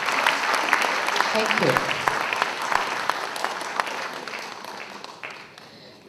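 Sustained audience applause after the Second Gandhi Memorial Lectures, a dense, steady wash of clapping that slowly fades, with a brief spoken thanks partway through.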